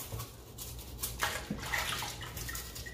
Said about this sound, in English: I make sure I wash them properly.